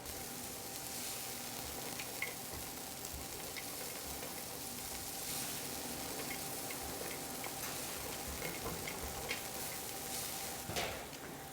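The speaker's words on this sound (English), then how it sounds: "add 2 tablespoons of cashew, 2 tablespoons of raisins, and go ahead and saute these as well" Cashews and raisins sauté in a pan for an easy Indian dish, giving a quiet, steady sizzle with faint ticks and occasional soft stirring scrapes.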